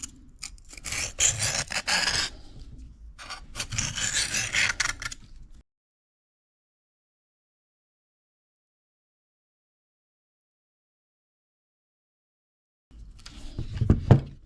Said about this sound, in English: we're going to start doing alternating passes to further minimize that burr.